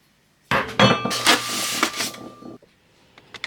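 On a KitchenAid stand mixer, a screw is removed and the metal cover slid off: a close burst of metallic clinks, taps and scraping for about two seconds, then near silence with a few faint ticks.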